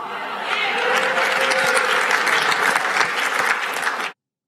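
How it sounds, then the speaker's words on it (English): A crowd applauds steadily for about four seconds, dense and sustained clapping at full strength from start to finish, then cutting off abruptly into silence. "He clapped. He clapped."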